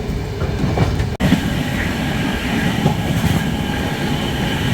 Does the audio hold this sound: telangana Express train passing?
yes